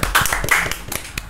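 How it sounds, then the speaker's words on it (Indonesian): Audience members clap for guests from InnoLabs in a talk-show setting: a quick, loose run of nearby hand claps, bright and uneven, lasting just over a second. "Tepuk tangan teman-teman semuanya."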